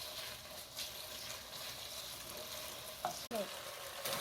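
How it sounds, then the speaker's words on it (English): Beef being stir-fried in a pan, a quiet, even sizzle with faint stirring scrapes and one sharp knock near the end, without talk. "I'm going to let my daughter stir the beef."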